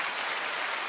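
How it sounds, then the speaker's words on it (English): Brief burst of audience applause for a guest on a community media talk show, a steady dense wash of clapping with no one speaking over it. "GF, can we give her a clap?"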